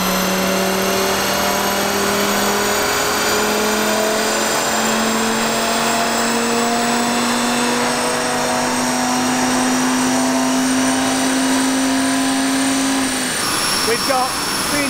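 An Audi RS3 Sportback engine roars continuously on a dyno, a loud steady drone with its pitch slowly climbing across the run before cutting off near the end, under a constant background whine.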